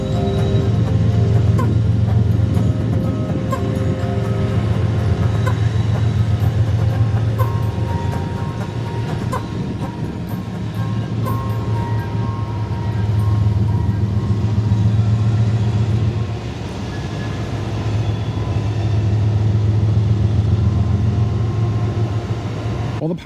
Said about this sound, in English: we could see 45R's trio of GEs slowly approach the switch that lies just outside the cargo plant